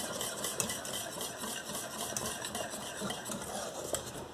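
A utensil stirs thickening vanilla pudding in a pot, giving soft repeated scraping and clinking against the metal at close range, fairly quiet and steady, with no voices over it.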